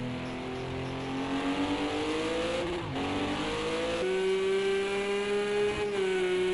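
Race cars, a Porsche and a Cadillac, lapping at speed around the Fuji circuit, steady engine drone rising and shifting in pitch with gear changes and faint tire squeal at moderate distance.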